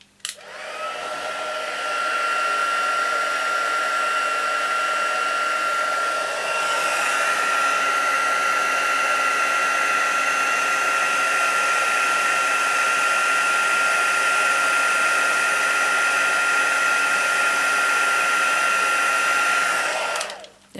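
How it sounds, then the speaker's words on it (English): A handheld heat embossing gun runs steadily for about twenty seconds, a loud constant blowing whoosh with a high motor whine, switched on at the start and cut off cleanly at the end. "I'm going to use my heat tool now. It won't take long, and I'm just going to allow it to run for a few seconds just to heat up first"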